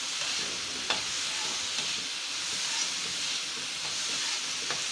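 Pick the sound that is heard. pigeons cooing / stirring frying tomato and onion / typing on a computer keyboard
stirring frying tomato and onion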